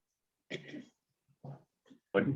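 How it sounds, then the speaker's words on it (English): A man clears his throat in a few rough, guttural bursts with short pauses between them, close and fairly loud, with no speech. "Better clear my throat."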